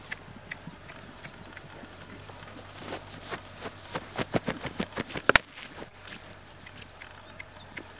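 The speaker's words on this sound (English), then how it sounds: "It's so nice when horses want to trot" A horse trots with rhythmic clip-clop hoofbeats, building louder and closer toward the middle before fading, with no talk over them.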